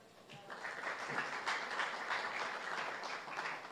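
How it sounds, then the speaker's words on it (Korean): An audience applauds as guests are introduced at a Gyeonggi Province basic housing conference: a steady wash of many hands clapping from across a hall, rising quickly and holding for several seconds. "한 분 한 분 소개드릴 때마다 큰 박수 부탁드리겠습니다."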